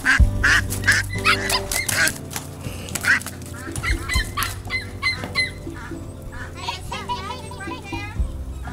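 Ducks quack and honk excitedly at close range amid splashing and commotion as a Border Collie puppy chases them, with a voice talking underneath.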